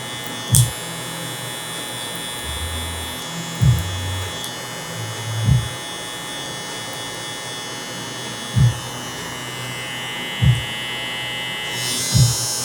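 Electric hair clippers with the guard lever half open give a steady buzzing hum while cutting fluffy Asian hair, broken by periodic soft thumps and clicks every couple of seconds.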